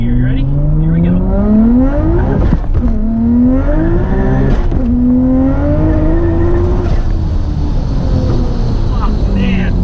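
A Nissan R32 GTR with HKS parts and all-wheel drive accelerates hard in first gear, its engine note sweeping upward in loud, steady rising pulls separated by brief dips at the shifts.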